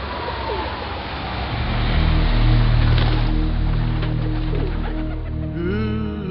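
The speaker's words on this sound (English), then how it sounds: "I just go fly my pigeons on the roof in New York" Pigeons coo on a New York rooftop, their low calls sitting under a steady, loud wash of wind or outdoor noise.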